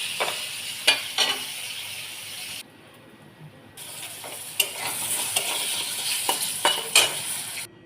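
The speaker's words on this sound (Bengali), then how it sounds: "ওই কড়াইয়ের যে পনির ভাজার তেল ছিল তার মধ্যে আমি কিছু গোটা গরম মশলা অ্যাড করে দিই" Whole garam masala sizzles in leftover paneer-frying oil in a kadai, a steady close hiss with sharp crackles and spatters, briefly dropping quieter before the sizzle returns.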